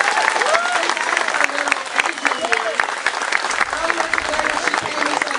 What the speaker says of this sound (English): Let's give Diamond Reynolds another round of applause for her courage.